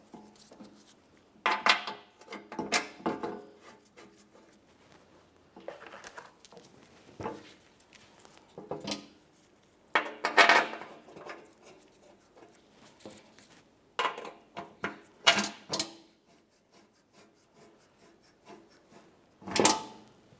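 Metal bolts being started by hand into newly installed skid plate brackets on a 2004-2015 Nissan Titan, with scattered clinks, rattles and scraping bursts spread irregularly across the clip, close and moderately loud.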